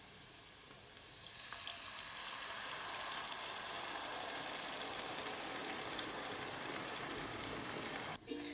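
Tomatoes hit a pan of cooked onions for tomato sauce, giving a steady, airy hiss that runs evenly and fairly close before cutting off with a brief clatter at the end, no voices.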